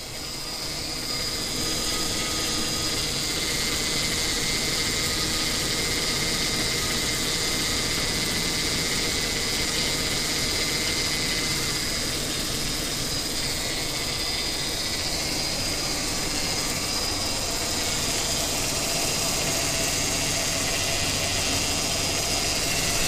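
A 2002 Ford Explorer engine, freshly back together after a timing chain job, runs steadily at idle for over twenty seconds, a broad continuous rumble and hiss that stays loud and even throughout.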